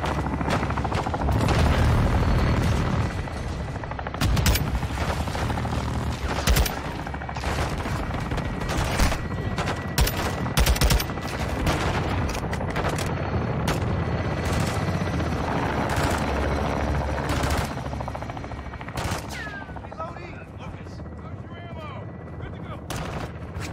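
Gunfire and explosions in the Modern Warfare 2 campaign keep up a loud, sustained barrage of rapid shots and heavy booms, with occasional voices heard over the battle.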